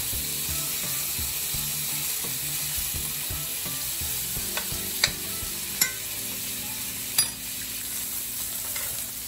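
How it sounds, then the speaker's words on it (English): Steaks sizzle in butter in a pan, a steady close frying hiss with a few sharp clinks and taps of utensils against the pan. "we're just gonna keep adding butter as these steaks keep cooking more and more"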